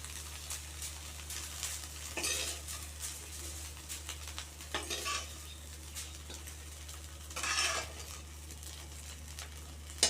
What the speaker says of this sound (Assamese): এয়া আমাৰ সয়াবিনখিনি ভাজি লাগি গ'ল।